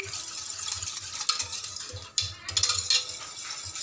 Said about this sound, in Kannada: ಇವಾಗ ಹಿಟ್ಟಾಗಿ ಕಲಸ್ಕೊತೀನಿ.